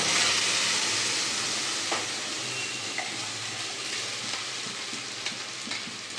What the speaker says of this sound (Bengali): ঝিঙে বাটাটা দিয়ে দেবো।